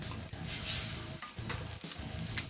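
Eggs frying on a hot griddle for fried rice, a soft continuous sizzle with faint stirring and scraping, quiet and steady with no talking.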